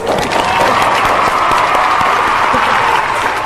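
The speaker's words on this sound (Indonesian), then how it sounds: "Tepuk tangan dulu untuk Mbak English Zila." Audience applause for a member of a school extracurricular English club during a casual talk show, dense steady clapping from a crowd throughout, close and loud, with a few louder individual claps.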